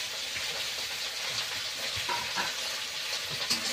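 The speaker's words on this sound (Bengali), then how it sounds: "আর পেঁয়াজটাও দিয়ে দিচ্ছি।" Onion sizzling in hot oil with okra (bhindi) in a pan: a steady, dense crackle and hiss that carries on with no talk over it.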